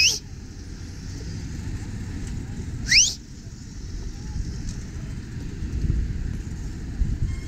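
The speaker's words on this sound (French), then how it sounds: "le bruit, comme vous pouvez l'entendre sûrement au fond sonore, des scooters et des motos" Rumbling Paris street traffic between Étoile and Odéon with scooters and motorcycles passing, a continuous low engine drone, and a couple of short high chirps cutting through.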